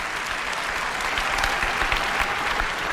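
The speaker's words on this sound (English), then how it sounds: "There's some good cheering there" An audience at an Apple keynote bursting into sustained applause and cheering, a dense, even wash of clapping from a large crowd that holds steady throughout.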